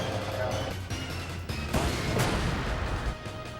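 An anti-tank gun firing in the tactical video game Front Mission 3, a couple of sharp booming blasts within a dense, noisy game soundscape, loud and close.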